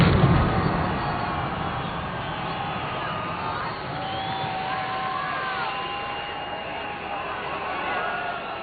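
A large crowd cheering at a New Year fireworks display in London, a broad roar of many voices rising loudly at first, then settling into a sustained distant cheer with muffled bangs beneath.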